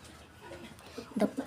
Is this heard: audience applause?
no